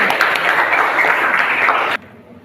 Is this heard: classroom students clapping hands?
yes